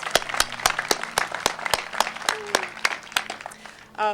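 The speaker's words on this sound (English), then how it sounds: "So give yourselves a huge round of applause for supporting libraries." Scattered applause from an audience at a library grand opening in Rifle, with sharp individual claps standing out over a low hum, and a voice briefly heard at the end.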